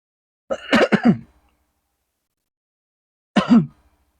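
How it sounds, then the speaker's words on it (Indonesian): A person coughs in a short, hoarse burst of several rapid hacks and then gives one brief throat-clearing rasp about three seconds later, close and fairly loud, at a market stall selling squid and shark. "Aduh batuk."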